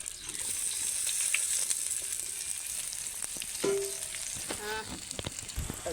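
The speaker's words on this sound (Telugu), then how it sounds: "తాలింపు ఏగనిచ్చి ముందుగా వేయించి పెట్టుకున్న దొండకాయలు వేసుకోవాలి" Ivy gourd (dondakaya), fried in advance, drops into a hot tempering of chilies and seasoning seeds and sizzles steadily throughout, with a few clinks and stirring scrapes near the end.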